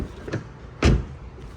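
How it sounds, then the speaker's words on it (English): Door of a 2025 Mini Cooper S three-door hatchback opening, its frameless window dropping slightly: a faint click, then one short loud thump and whir nearby, alone with no talk. "The windows in this car tip down a little bit as you open the doors to clear the door frame"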